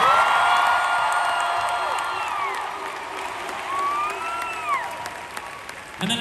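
A concert crowd at a live show applauds and cheers loudly for an opening act, with dense clapping, whoops and high shouts sustained throughout and tapering slightly near the end.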